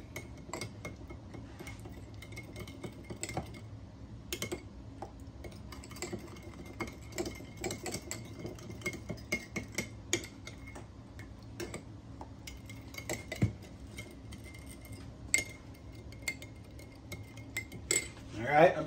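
A utensil mixes sugar in a bowl, producing a run of irregular clinks, taps and scrapes against the dish, close and fairly quiet, with a few louder knocks near the end.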